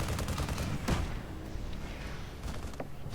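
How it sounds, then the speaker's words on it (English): Rapid chain gun fire in Tribes Ascend, a dense stream of fast gunshots running continuously without pause, loud and close with a heavier burst partway through. "the chain gun is really good. Doesn't do a ton of damage, but because it fires pretty fast and actually doesn't have to reload"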